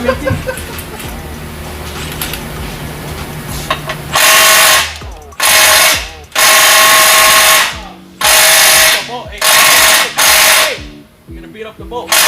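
A Milwaukee M18 power tool works a bolt during a CV axle rebuild on a Juke, roaring in five loud bursts separated by short pauses, over a steady background hum of voices and shop noise.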